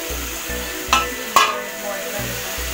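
Boiled potato pieces fry in spiced oil in a pan, a steady sizzle broken by two sharp scrapes and clinks of a spoon stirring them.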